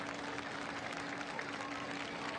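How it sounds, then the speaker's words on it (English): Crowd applause at a high school football game between Chiles and Lincoln, a steady broad wash of clapping and crowd noise from the stands, fairly faint and even throughout. "Getting some applause from the crowd"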